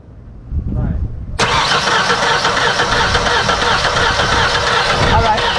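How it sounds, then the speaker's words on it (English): Ford F150 pickup engine cranking and catching, a loud sustained roar that starts abruptly after a brief quiet moment with faint voices, then holds steady close up. "You can crank it now."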